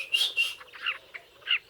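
Bright, high bird chirps from a bee-eater, a few short calls in quick irregular succession, close and clear with no other sounds.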